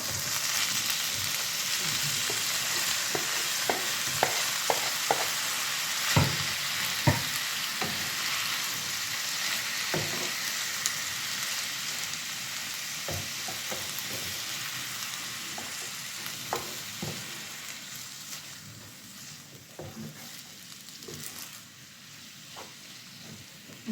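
Onions frying slowly in a pan for an Armenian tapaka dish, a steady soft sizzle running throughout with scattered small pops and crackles, close and moderately loud, no voices.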